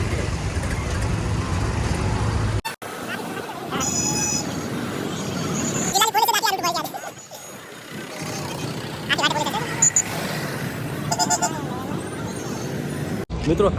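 Road traffic passes through Radhanpur with vehicle engines droning and several short horn toots; a person talks over the traffic noise throughout.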